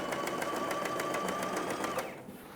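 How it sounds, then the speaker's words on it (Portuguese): A sewing machine stitches fabric with a steady, fast, close mechanical run of needle strokes for about two seconds, then stops. "E agora pode ir costurando."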